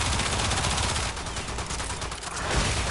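Rapid automatic gunfire from Warframe crackles in a continuous, loud burst over three seconds, with no voices.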